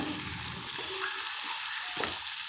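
Cabbage, beans and carrot sautéing together in a pan produce a faint, continuous sizzle with light stirring sounds, close by and without any voices.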